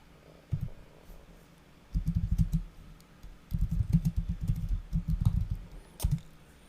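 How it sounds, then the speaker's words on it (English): Typing on a computer keyboard while writing a bulleted list in Microsoft Word, with close, clattering keystrokes in quick bursts separated by short pauses and a single sharper key tap near the end. "You click on enter on your keyboard and the next bullet will come up."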